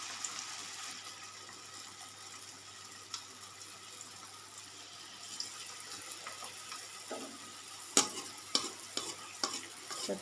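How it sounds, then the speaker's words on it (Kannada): Homemade samosas fry in hot oil, making a faint, continuous sizzle. A few sharp clinks and stirring knocks cut through near the end. "ಇವಾಗ ಎಣ್ಣೆಯಲ್ಲಿ ಫ್ರೈ ಮಾಡೋಣ. ಎಣ್ಣೆ ಚೆನ್ನಾಗಿ ಕಾದಿದೆ."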